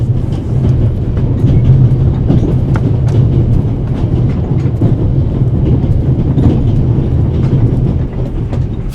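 The Orient Express from Paris to Istanbul rolling along the tracks in the game The Raven, a loud, steady low rumble with rhythmic clickety-clack wheel beats and rattling carriage noise throughout.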